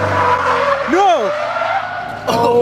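A stock-ish Nissan 240SX on a back road skids with a sharp rising and falling tire squeal over a loud engine, followed by a brief rough burst, while people shout excitedly.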